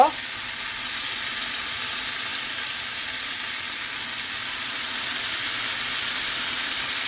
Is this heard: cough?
no